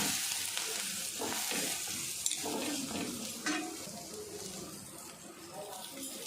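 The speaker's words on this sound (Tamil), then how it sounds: "மேலே கொஞ்சம் எண்ணெய் நிறைய விட்டுக்கலாம் அது அப்படியே திருப்பி போட்டுருவோம்" A dosa cooks in plenty of oil on a pan, giving a loud, continuous sizzle with occasional clinks of utensils against the pan.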